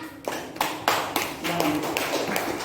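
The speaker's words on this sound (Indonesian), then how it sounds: "Tepuk tangan." Classroom applause from a group of students, a burst of scattered claps with a few sharper taps standing out, fairly close and lasting a couple of seconds.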